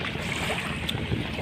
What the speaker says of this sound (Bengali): আর একটা ছোট নেকা